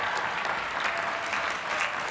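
At a Columbia School of Professional Studies commencement, a large audience claps and cheers in sustained, dense applause that stays loud and steady throughout.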